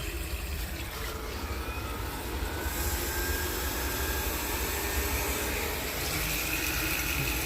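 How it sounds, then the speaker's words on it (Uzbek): A variable-frequency water pump motor runs with a steady mechanical hum and broadband whooshing noise continuously throughout at constant load, no voices. "Evani U550 chastotli motorimiz ishlash jarayoni."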